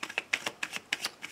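Lenormand tarot cards are shuffled close by in a quick run of crisp riffling slaps, several distinct bursts in under two seconds, with no talk.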